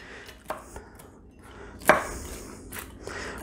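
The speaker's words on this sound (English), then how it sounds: "We got our walnuts here. We'll, you know, just roughly chop them." Knife chopping walnuts roughly on a cutting board for a Waldorf salad, a few sparse, soft taps with one sharper louder chop near the middle, close and quiet.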